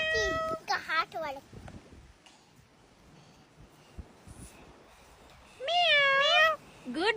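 A pet parrot mimics a cat's meow in two clear, loud bursts, one near the start and a longer one near the end, with quiet speech in between.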